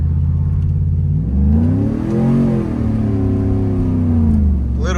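Up close, an E85-tuned Chevrolet Tahoe engine revs hard as the SUV accelerates, its loud roar climbing in pitch, dipping, then rising again in a smooth sweep over five seconds.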